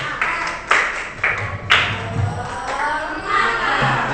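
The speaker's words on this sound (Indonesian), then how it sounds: "Tepuk tangan. Tepuk semangat." A classroom of seventh-grade students performs a 'tepuk semangat' rhythmic clapping cheer, with loud, sharp group claps in a patterned rhythm over room noise and a few voices.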